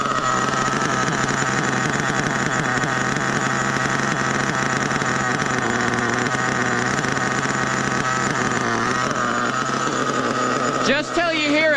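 A truck engine runs at raised idle with a steady, dense drone while its clutch begins to engage, holding constant throughout before a brief shift near the end.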